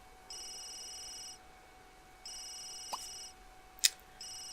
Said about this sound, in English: Just answer the phone.